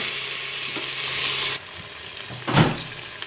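Potatoes sauté in a Cookeo with salt, pepper and herbes de Provence, giving a steady close sizzle broken by a pause and a loud spoon scrape mid-stir.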